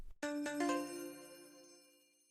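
Notification bell sound effect: a bright, clean chime struck in quick succession, its ringing tone fading away gradually over a couple of seconds, alone with no talk.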